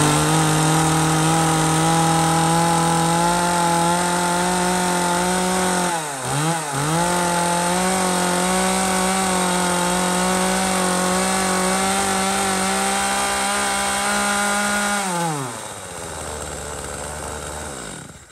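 A used Japanese U5 chainsaw engine, low on fuel, runs loudly at high revs with a steady buzzing drone, dips briefly midway, then winds down toward idle near the end.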